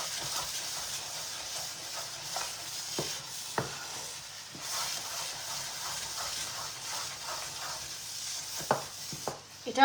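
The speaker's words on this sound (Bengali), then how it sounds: "এটা আবার নন স্টপ নাড়তে হয়, না হলে লেগে যায়।" A cooking pot is stirred non-stop so its contents do not stick before sugar goes in, with soft scraping and sizzling hiss recurring steadily at close range.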